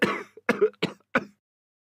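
Four short harsh coughs in quick succession, close and dry, with brief pauses between them, then silence.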